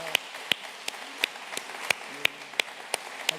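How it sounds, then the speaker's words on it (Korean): Slow, sparse hand claps at a Korean church worship service, single sharp claps falling roughly every third of a second, faint over a quiet room. "우리 힘찬 박수로 한번 격려해 주시면 감사하겠습니다."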